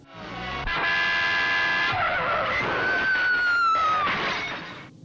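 A car in a film swerving hard to avoid a truck: a long, loud, high tire squeal that bends and wavers over several seconds, with a crunching impact in the middle, heard alone without speech.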